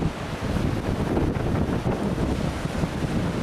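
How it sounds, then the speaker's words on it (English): Ocean waves break against a rock at dusk, a steady, loud rushing roar mixed with wind buffeting the microphone, continuous throughout with no clear separate crashes. "Look at those waves popping on the other side of the rock."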